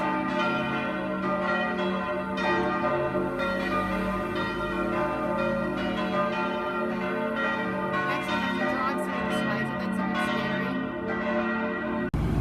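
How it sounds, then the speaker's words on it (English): Several church bells ring together in a loud, overlapping peal in Stein am Rhein, Switzerland, clanging continuously without pause. "the bells are going crazy"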